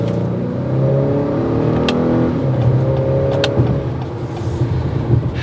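A 2022 Acura RDX with super handling all-wheel drive pulls away from near a stop, its engine note rising steadily and loud for several seconds with tire and road whir beneath, no voices.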